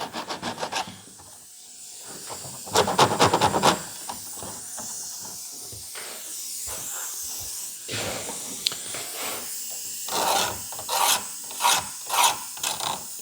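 Razor blade lightly chamfering and deburring a freshly cut edge on a delicate part for a Mustang stereo install, giving close, dry rasping scrapes in short bursts with quiet pauses between strokes.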